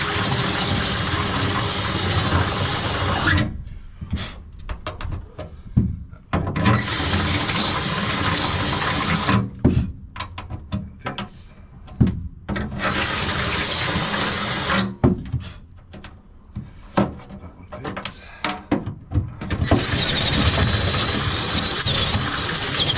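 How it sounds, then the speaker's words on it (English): A power drill reams bolt holes in a boat seat pedestal, whirring loud and close in three long sustained bursts separated by quieter pauses of handling and clunks. "I'm gonna have to ream a few of those more."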